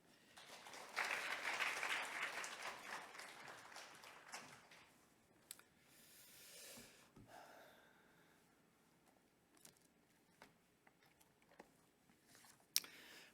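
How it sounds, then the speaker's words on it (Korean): A congregation claps to welcome a pastor at a church worship service. The applause swells early, then fades into scattered claps and rustling. "우리가 힘찬 박수로 하나님께 영광을 올려드리고 또 말씀 전해주실 백승열 목사님께도 또 환영의 박수로 환영하도록 하겠습니다."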